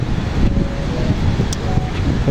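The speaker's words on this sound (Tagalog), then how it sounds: "Saka mahangin." Wind blows outdoors on a cloudy day, buffeting the microphone with a loud, continuous low rumble.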